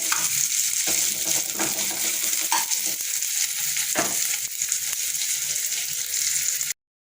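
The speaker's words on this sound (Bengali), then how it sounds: "মানে হালকা করে একটু ভেজে নেবো" Onions sizzle steadily in a hot pan, with a few clinks and scrapes of stirring over the constant frying hiss.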